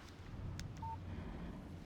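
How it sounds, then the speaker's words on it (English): Short electronic phone text-message alert from the Alan Wake video game: a single brief, thin beep tone over a faint low background hum, with no talk. "Text message from Barry"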